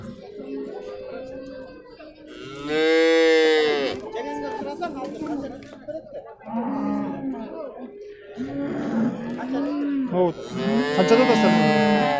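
Dairy cows with calves moo in long, loud bellows at the Tokmok livestock market, several calls rising above steady chatter from people bargaining nearby.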